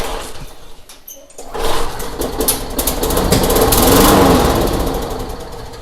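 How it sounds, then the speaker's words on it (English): A Craftsman lawn mower engine with governor trouble fires up, running loudly and unevenly for a few seconds close by, with its rough buzzing growl swelling and then easing as it begins to die. "if all goes well, this should fire over a couple revolutions, and then it should die,"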